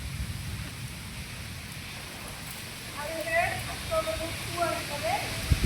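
Rain falling steadily outdoors as a constant broadband wash throughout, with a few faint tonal calls or voices rising over it in the second half.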